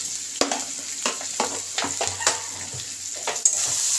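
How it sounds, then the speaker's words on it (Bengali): Potatoes are sautéed with spice masala in a pan for a hilsa curry with potato and eggplant, a close frying hiss broken by repeated rhythmic scraping strokes of a spatula. "এবার এই মশলা দিয়ে আমি এটাকে, আলুটাকে ভালো করে কষিয়ে দেবো।"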